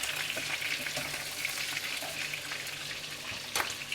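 Fresh pork sizzles steadily in a pan with plenty of fat, a continuous close crackling hiss with faint pops and a slight stirring scrape near the end.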